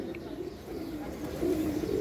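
Pigeons coo softly in a low, murmuring drone that runs on without a break, faint and somewhat distant.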